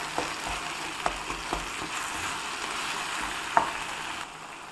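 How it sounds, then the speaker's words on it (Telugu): Tomatoes fry in a pan with fenugreek seeds and tamarind juice, giving a soft, continuous sizzle with a few light stirring knocks. It is quiet and close, with no talking. "మెంతులు యాడ్ చేసుకున్న తర్వాత చింతపండు జ్యూస్ యాడ్ చేసుకొని ఇలా టమోటాలను బాగా ఫ్రై చేసుకోవాలి"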